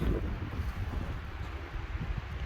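Steady low wind buffeting outdoors, a continuous rumbling roar with gusty fluctuations and no voices.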